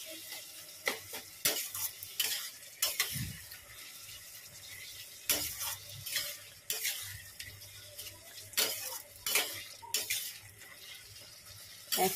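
Water lily stems cooking in a pan with a chili give off an intermittent soft sizzle, broken by repeated scraping stir strokes and clinks from a utensil, fairly close and with no talking.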